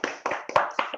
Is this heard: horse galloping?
no